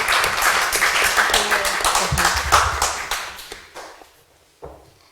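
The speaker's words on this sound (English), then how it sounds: "A round of applause for our amazing panelists" Applause for panelists at an annual seminar and conference: a close, dense burst of many hands clapping that gradually tapers off, followed by a few last scattered claps.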